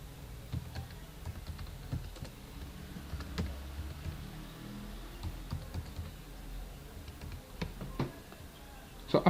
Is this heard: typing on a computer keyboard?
yes